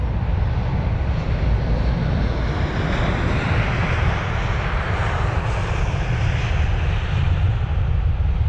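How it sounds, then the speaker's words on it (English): American jet airliner taking off at full throttle from London Heathrow, a loud continuous roaring engine rumble with heavy low end, sustained and steady without any talk. "Was full throttle out of London Heathrow."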